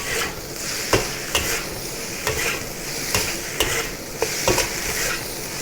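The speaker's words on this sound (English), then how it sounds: "Stir fry until the basil leaves start to wilt and it's done." Basil fried rice stir-fried in a wok over high heat with fresh basil leaves, a steady close sizzle broken by regular spatula scrapes and clinks roughly every second, with no talking.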